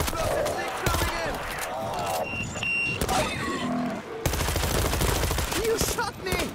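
Rapid gunfire in the Missile Command game at Marseille, with bursts and individual shots crackling close and loud, broken by brief lulls while game voices shout over the battle.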